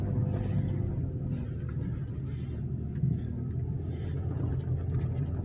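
A car drives along Stewart Street in McKeesport, Pennsylvania, giving a steady low road and engine rumble at moderate, even volume with no distinct events.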